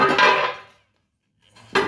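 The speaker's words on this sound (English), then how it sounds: "that's a cast iron, big old griddle that we use outside." A big cast iron griddle, flat on one side and ridged on the other, clanks as it is handled: a loud metallic scrape that fades, a pause, then a sharp clunk.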